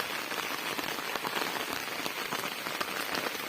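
Heavy rain pours down in a dense, continuous hiss, with drops pattering hard on nearby surfaces throughout.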